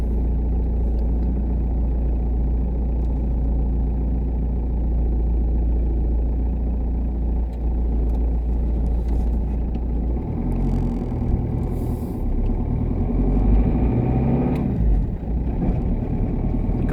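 A Ford Fiesta Mk7 with a newly replaced starter motor drives along, its engine a low, steady rumble with road noise throughout and a slight rise in pitch near the end as it gathers speed.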